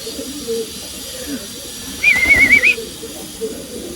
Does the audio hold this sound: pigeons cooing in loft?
yes